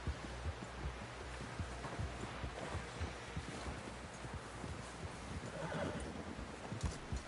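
Horse whinnies and clip-clopping hooves in the Red Dead Redemption 2 video game, a busy dense mix of neighs and steady hoofbeats with no speech.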